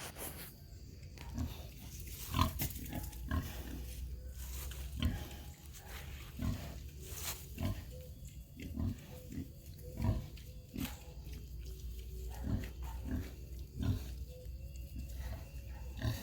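Piney Woods rooter pigs grunting and oinking in repeated short bursts, fairly close and moderately loud, with irregular rhythm over a low background rumble.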